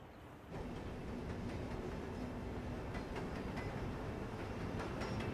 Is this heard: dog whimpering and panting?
no